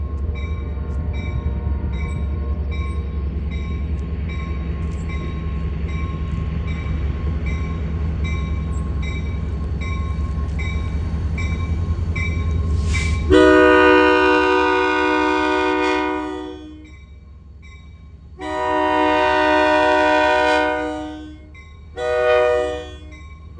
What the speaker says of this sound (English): 5957 taking its train out of town towards Albany for the interchange.